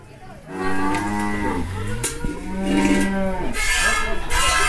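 Dairy cows on a farm in Takengon low out in long, drawn moos, several calls overlapping one after another, loud and close with no talk over them.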